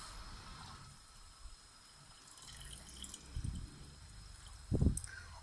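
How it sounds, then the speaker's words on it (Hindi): Water pours from a vessel into a cooking pot of spiced mutton, a soft trickle with a couple of louder splashing bursts near the end, fairly quiet overall. "अब मैं इसमें तकरीबन ½ लीटर पानी डालूंगी।"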